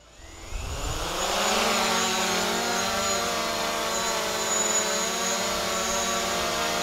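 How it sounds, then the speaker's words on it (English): A DJI Mavic Pro drone spinning up outdoors on a hot summer day, its motors rising quickly into a loud, steady, close high-pitched buzzing whine that holds with slight wavering and no talk. "and fired up the drone."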